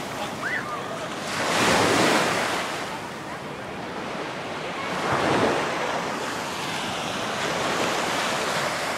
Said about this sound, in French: Et quelques vagues aussi.